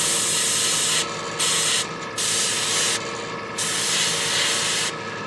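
Airbrush spraying thinned paint while building up skin-tone highlights on a Reaper Hill Giant Lowland Warrior miniature: steady close airy hiss in several bursts about a second long, with short pauses between trigger pulls.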